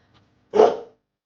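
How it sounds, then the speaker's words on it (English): A single short, sharp farm dog bark, close and clear, alone against silence. "I am a farm dog. I say woof woof."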